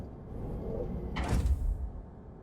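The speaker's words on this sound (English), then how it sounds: "I bet pulling that release handle will open this door" A heavy door slides open after a release handle is pulled aboard a spacecraft in Lone Echo 2, giving a brief rumbling, hissing scrape over a steady low hum.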